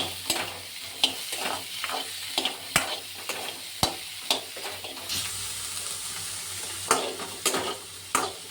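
Sambar ingredients frying in a pan and being stirred, with a continuous sizzle broken by repeated sharp scrapes of a spoon against the pan, close and without speech.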